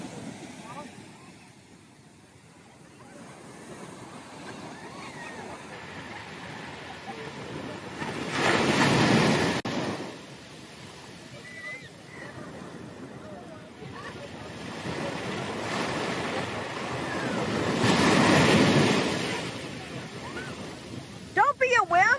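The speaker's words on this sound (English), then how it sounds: "Look at those waves." Ocean waves break at a beach in two big rushing surges about ten seconds apart, with wind buffeting the microphone and voices talking faintly in between.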